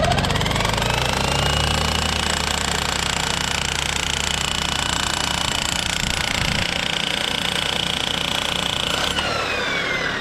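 A power hammer pounds a grounding rod into the ground, a loud, continuous rapid hammering that runs steadily for about ten seconds with no pause.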